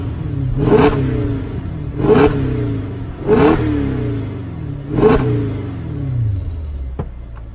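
A Mercedes CL500 V8 engine revs hard four times in a steady rhythm, each sharp roar rising and falling back, then a brief click at the end.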